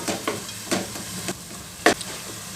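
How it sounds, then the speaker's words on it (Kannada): Onion paste fries in a pan under a faint, steady sizzle, broken by a few soft scraping stirs and one sharper knock of the spoon. "ಈರುಳ್ಳಿ ಹಸಿ ವಾಸನೆ ಹೋಗೋ ತನಕನೂ ಅದನ್ನು ಚೆನ್ನಾಗಿ ಫ್ರೈ ಮಾಡ್ಕೋಬೇಕು"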